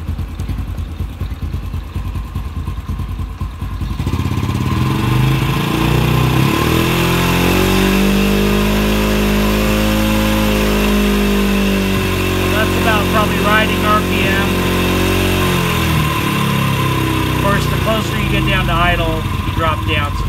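A Honda TRX90 ATV engine starts from a rough, clattering idle and then holds a loud, steady run with a wavering pitch, close up, with no clear talking.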